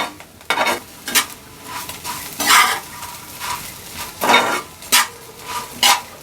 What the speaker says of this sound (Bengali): এটাকে এখন আমি 1 মিনিটের মতো চুলায় রেখে ভালোভাবে নেড়েচেড়ে ভালোভাবে ভেজে নিব।